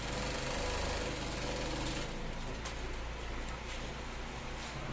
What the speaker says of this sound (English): Then make sure your sewing is nicely done.